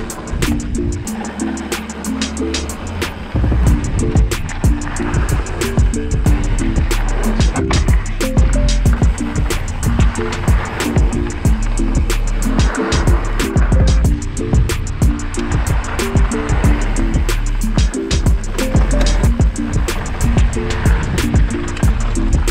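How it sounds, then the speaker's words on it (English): Mountain bikes roll over Oregon forest trails with a steady, loud rush of tire and wind noise broken by frequent sharp rattles and knocks from the rough ground, heard close throughout. "here are a few clips from the trails that Josh and I rode the other day."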